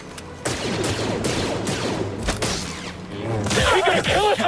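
Rapid volleys of stormtrooper blaster fire from the Star Wars Jedi Fallen Order video game, loud and continuous, with shouting voices and a bright mechanical sweep near the end.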